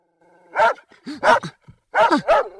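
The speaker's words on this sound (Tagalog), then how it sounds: "jaklaki din nadlaw jay aso da ataol-ataol" A dog barks in short bursts of two or three loud, close, throaty barks separated by brief pauses, with no voices present.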